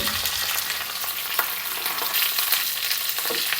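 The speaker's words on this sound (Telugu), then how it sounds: "ఈ విధంగా పోపుని మనం వేసుకోవాలి" Curry leaves, dried red chilies and kasuri methi sizzle in hot oil as a tempering for methi dal, giving a steady, close, bright frying hiss with crackles and no talk.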